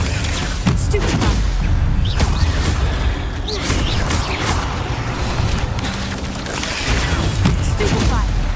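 Spell combat in the Hogwarts Legacy video game, with Stupefy and other spells cast in a dense, continuous barrage of loud magical blasts, impacts and crashes, and a voice calling out spell names over the din.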